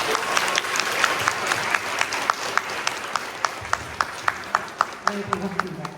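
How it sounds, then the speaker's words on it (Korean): Audience applause at a university lecture welcoming former professional Go player Lee Sedol, with crowd clapping settling into sharp, rhythmic claps near the end while a voice speaks over it. "큰 박수를 환영해 주시기 바랍니다."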